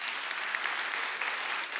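Audience applause at a youth customs forum in Russia, bright dense clapping from many hands, steady and fairly close, with no speech over it.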